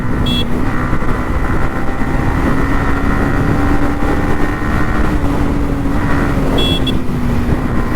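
Yamaha MT-15 motorcycle ridden hard on an open road, a loud continuous engine drone with heavy wind buffeting close to the rider.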